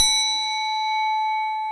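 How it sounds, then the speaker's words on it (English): A hand bell rung once, its bright metallic strike ringing out with a long, steady, slowly fading tone, alone and fairly loud. "Oh, where's the bell? Get it out."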